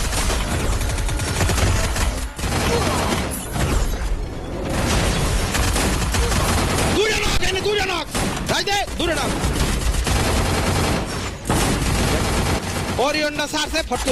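Shotgun blasts and heavy gunfire from a shooter video game using the 1BC shotgun, loud and continuous, with sharp repeated shots and booms layered over dense game noise.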